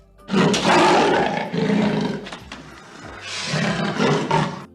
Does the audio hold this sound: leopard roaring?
yes